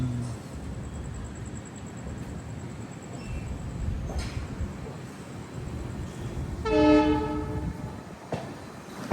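Amrit Bharat Express train near Madurai on its inaugural run from Nagercoil Junction to Hyderabad, with a steady rumble of wheels and carriages and a loud horn blast near the end.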